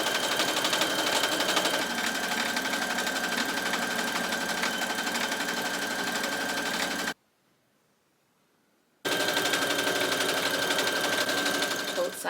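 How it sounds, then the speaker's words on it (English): A sewing machine runs steadily, stitching the seams of a gown mockup with a constant close whir, cutting out briefly for a couple of seconds before starting again. "So I'm gonna go in and sew this on this side."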